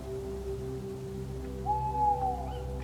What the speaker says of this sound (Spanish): Ese sonido proviene del búho